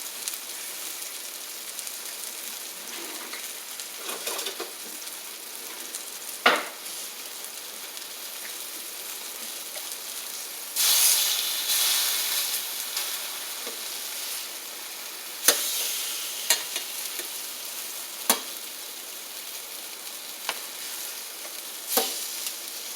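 Steady sizzling and crackling of steak searing in hot oil for Philly cheesesteak, a continuous hiss with occasional sharper pops and spits, close by, no voices.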